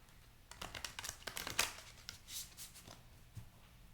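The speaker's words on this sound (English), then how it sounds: "let me just shuffle a few of these decks." Tarot and oracle card decks are shuffled close by, quiet papery riffles and crisp slapping bursts in irregular clusters, faint and with no talk.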